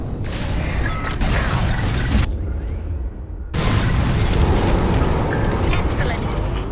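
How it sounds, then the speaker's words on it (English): Bombs explode during a raid in the Star Wars Squadrons video game, with heavy booming blasts and rumbling debris, a sharp cut-off partway, then more dense explosions, and voices talking over the action. "On my mark, it's bombs away."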